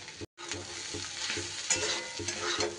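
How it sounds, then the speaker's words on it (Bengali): Okra curry sizzles steadily in a pan while a spatula stirs it in regular scraping sweeps, close and continuous, with no talking. "বেশ কয়েক মিনিট ধরে সুন্দর করে আমি এভাবে মিশিয়ে নেব"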